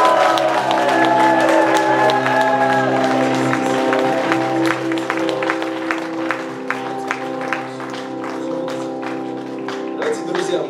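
A Moscow church congregation applauds and cheers at an Easter service, dense clapping and whoops mixed with sustained music, with voices heard through it and the clapping growing more scattered toward the end.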